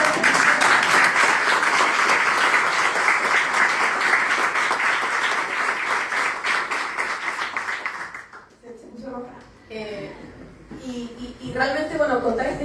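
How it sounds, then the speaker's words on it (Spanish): Loud, dense applause from a book-launch audience in Valparaíso fills the first eight seconds, then breaks off and a voice starts talking. "así que en verdad el aplauso fue tibio"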